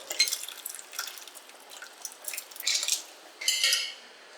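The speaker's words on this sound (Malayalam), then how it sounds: "നമ്മുടെ ഈ ഒരു ബീഫ് ചാറും ഇതെല്ലാം നമുക്ക് കപ്പയിലേക്ക് ഒഴിച്ചു കൊടുക്കാം" Beef gravy goes into cooked tapioca (kappa) in a metal pan, with clinks of a utensil against the pan and soft wet splashes. The bursts are irregular and moderately close, with no talk.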